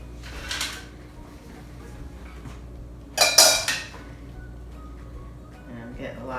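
A spoon scoops crispy tofu mixture with vegetables into a bowl, giving two short clinks of metal against the dish, one early and a louder cluster midway, over a quiet kitchen background.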